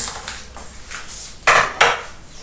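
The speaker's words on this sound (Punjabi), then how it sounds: "ਹੁਣ ਆਪਾਂ ਪਾਵਾਂਗੇ ਇਹਨੂੰ" Mashed gajrela mixture is scraped and tipped into a frying pan, with a few light utensil scrapes followed by two sharp, close metallic clanks of a spoon against the pan, heard alone.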